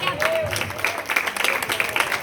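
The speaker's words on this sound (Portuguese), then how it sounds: "aplauda Jesus de Nazaré" Congregation applauding during an evangelical church service, a lively room full of clapping with voices calling out over it.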